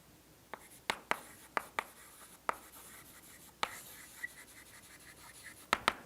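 Chalk strikes a board during a doctoral lecture on partial differential equations: a sparse, irregular series of short, sharp taps and scratches, quiet and close, with no talking.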